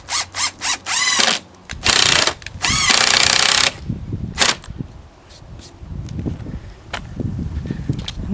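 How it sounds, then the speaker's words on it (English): A power drill drives a screw into a greenhouse hoop in several short bursts and one longer run, with clicking and clattering between the bursts, close and loud. "put in a screw, just to tack it there."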